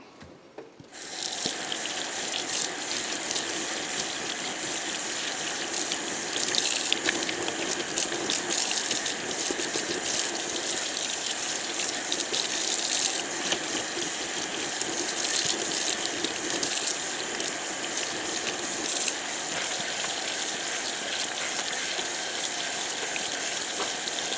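Water gushing steadily from a tap onto ice-dyed tie-dye fabric during a washout rinse, a loud continuous close spray and splash that runs unbroken for over twenty seconds with no talk.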